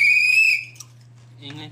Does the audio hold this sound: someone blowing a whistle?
yes